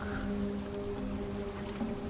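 Steady rain falls in the video game Lost Horizon, a continuous even hiss of drops with a soft droning tone underneath, unbroken for the whole stretch and with no voices.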